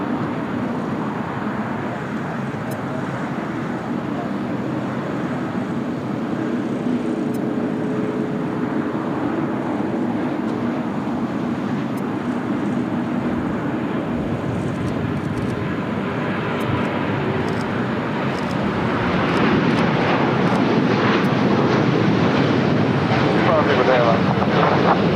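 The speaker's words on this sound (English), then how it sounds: "Dreamliner, retro Dreamliner, rolling down at 25 right" A Boeing 787 Dreamliner in retro livery rolling down runway 25 Right at LAX, a broad steady jet roar mixed with wind rumble that swells louder toward the end, with voices talking over it.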